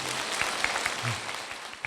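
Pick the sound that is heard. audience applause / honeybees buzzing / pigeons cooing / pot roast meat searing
audience applause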